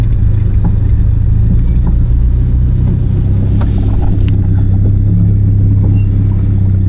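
A front-wheel-drive car pulls away from a standstill under hard throttle, its engine a loud, steady, close rumble with a strong low drone throughout and no voices.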